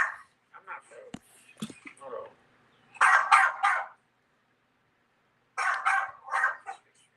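A dog barks in two clusters of several quick barks at mid-distance, with a person talking before and between the bursts.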